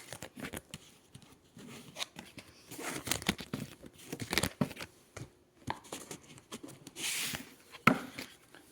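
Tarot cards handled up close in a quiet room: soft, irregular shuffling, flicking and papery rustles come in short bursts with brief pauses, with no talking.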